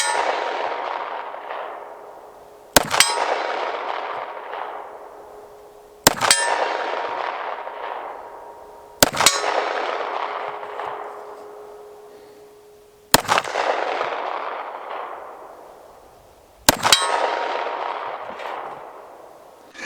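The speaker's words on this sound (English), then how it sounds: "I shot it until my target fell down, but let's go ahead and check out that footage." A 10mm Ronin pistol fires at a steel target 50 yards away: five sharp shots, each followed by a ringing metallic clang that fades over about three seconds, spaced a few seconds apart.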